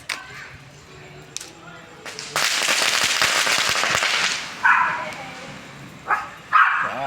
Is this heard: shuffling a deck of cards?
no